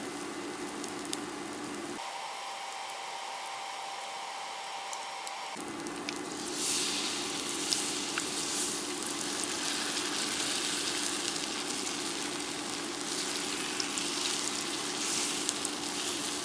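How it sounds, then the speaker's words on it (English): Cauliflower sizzles in a skillet over medium-high heat with a steady, bright crackle that briefly drops away, then returns louder and more spattering for the remainder. "I added some cauliflower in the skillet. And I have the heat on medium high."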